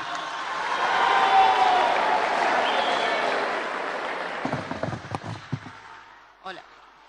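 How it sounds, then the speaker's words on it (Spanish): Applause from an audience at an outdoor ceremony where land titles are handed to farmers, a broad steady wash of clapping that swells early, then thins into scattered claps and a few voices toward the end. "fuerte el aplauso"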